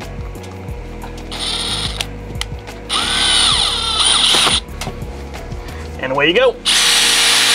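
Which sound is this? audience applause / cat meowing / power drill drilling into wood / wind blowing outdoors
power drill drilling into wood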